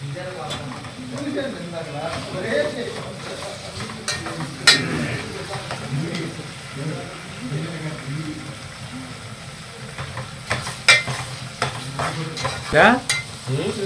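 Chicken liver frying with curry leaves in a pan, a steady sizzle with repeated clinks and scrapes of a spoon stirring, some louder knocks against the pan.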